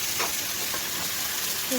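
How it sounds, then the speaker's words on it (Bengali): Tomatoes frying with pumpkin greens in a pan give a steady, soft sizzle and hiss close by, with faint stirring scrapes. "এখানে টমেটোগুলো ভাজা হয়ে গেছে"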